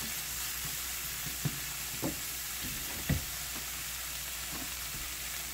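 Chicken and vegetable pieces sizzle steadily in a pan for a stir fry, a continuous hiss with a few soft clicks and taps from stirring, fairly quiet.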